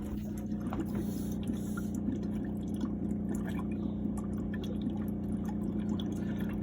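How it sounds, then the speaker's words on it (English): A motorhome tap runs and sputters with air in the water system, giving a continuous rushing, gurgling stream under a steady low hum, close and moderately loud, with no talking. "You just come to the tap, pull the hot water through, make sure that it comes through nice and clean with no air in the system."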